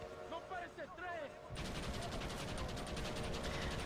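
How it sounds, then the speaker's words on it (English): Hand-cranked machine gun in Red Dead Redemption opens up after a brief stretch of speech, a steady rapid rattle of shots that runs loud and continuous to the end. "The ye old machine gun. I like the crank."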